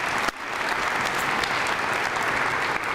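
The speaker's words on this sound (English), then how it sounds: "Can we give them a round of applause?" A crowd claps steadily and densely for a few seconds, a full, even wash of applause.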